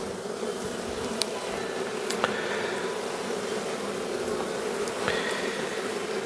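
Dense, steady buzzing of honeybee swarms just in front of a hive, with a few individual bees zipping close past now and then over the continuous hum.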